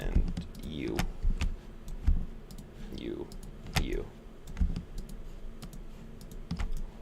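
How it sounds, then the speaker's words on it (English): Sharp, irregular clicks from a computer keyboard and mouse, with single taps and short bursts scattered through the clip and a voice talking over them. "A lot of clicking."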